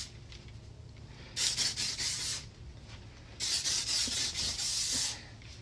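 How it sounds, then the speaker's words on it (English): Flexible hairspray sprayed onto curly hair from an aerosol can, heard as two sustained hissing bursts of about a second each, close and fairly loud, with short quiet gaps between them. "And now my secret weapon, flexible hairspray."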